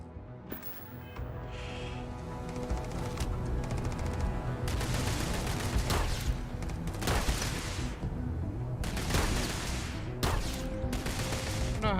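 Pistol shots ring out over and over in a Starfield firefight, coming as sharp reports and fast clusters over a steady rumble of game sound. The shooting continues for the whole stretch, with no talking.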